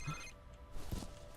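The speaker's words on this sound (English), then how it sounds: "What phone is going off?" A telephone rings in the F.E.A.R. horror shooter, a brief bell-like ring with tonal overtones against a dim, rumbling game ambience, followed by a louder low thud.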